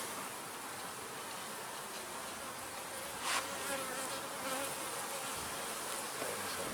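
Steady buzzing of bees fills the air, a dense insect drone with no voices.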